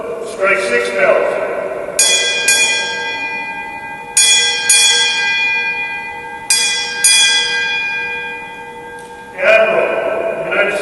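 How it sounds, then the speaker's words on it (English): At a Navy retirement ceremony, a ship's bell rings six times in three evenly spaced pairs, each strike clear and ringing with a lingering decay. Voices are heard before and after the ringing. "Bosun, strike 6 bells."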